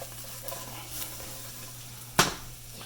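Home fried potatoes sizzle faintly in a pan after the heat is turned off, with a low steady hiss under a mains hum and a sharp scrape-and-crackle as they are flipped.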